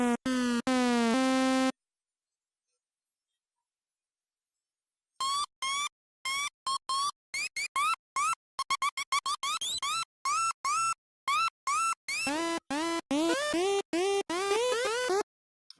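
Synth tones from FL Studio's 3xOSC with modulated pitch: a sustained harmonic note, a pause, then a rapid run of short bleeps whose pitch rises, falls and wobbles, played alone and fairly loud.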